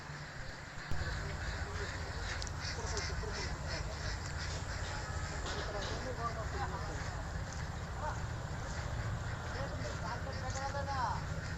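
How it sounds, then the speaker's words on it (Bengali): Ducks quack at a riverside duck farm beside the Turag River, with scattered calls at moderate distance over a steady background hum. People can be heard talking in the background. "চারিদিকে খালি হাঁসের খামার।"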